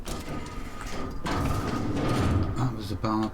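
A barred door mechanism in The Outer Worlds grinds and slides open, a loud mechanical rumble swelling midway and holding, with game voices and tones overlapping near the end.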